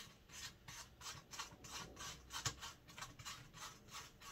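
Nut being twisted by hand on the underside of a child's potty training toilet seat, giving a faint, rhythmic rubbing and scraping that repeats roughly every third of a second, close up.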